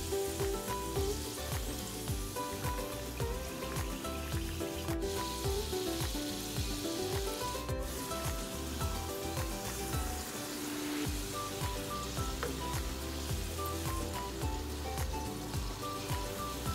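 Katori chaat baskets deep-frying in hot oil over a medium flame: a dense, continuous crackling sizzle like rain on a surface, with occasional metallic clinks, steady throughout.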